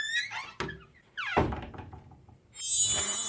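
A desk drawer shuts with a couple of close wooden thunks and a short sliding scrape, followed by a faint high ringing tone, in an otherwise quiet room.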